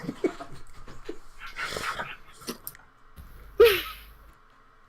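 A big friendly dog pants and whimpers softly nearby, with short breathy huffs and small whines scattered over a few seconds.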